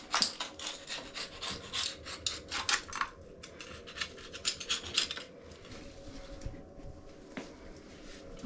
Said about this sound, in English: let's go ahead and clean off the silicone